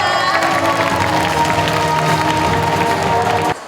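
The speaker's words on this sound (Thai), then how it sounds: "ขอเสียงปรบมือด้วยนะคะ" A crowd applauds and cheers steadily at a press launch event for a reality TV show, a dense wash of clapping with some voices mixed in, cutting off near the end.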